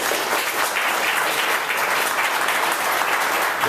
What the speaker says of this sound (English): stand up, Carrie, because you deserve some applause